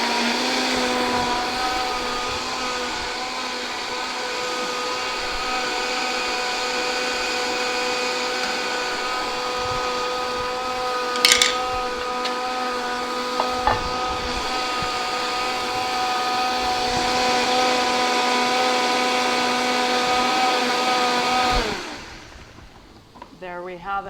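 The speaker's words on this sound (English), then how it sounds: "It's going to get a little bit loud in here. We're going to blend on hot." A high-speed blender whirs loudly on the hot setting while blending garlic and herb butter, a sustained motor roar with steady whine that runs for about twenty seconds and then cuts off, with no talk.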